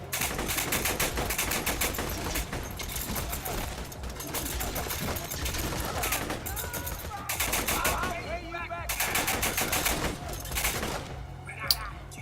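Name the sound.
gunfire in the video game Borderlands 2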